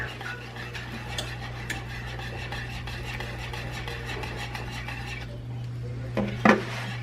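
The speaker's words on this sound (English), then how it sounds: "Go ahead and add your sausage in at this point. Just continue to whisk." Sausage gravy made with milk is whisked in a pan, producing a steady run of soft scraping and light metallic ticks over a low constant hum, ending with a couple of louder clinks against the pan.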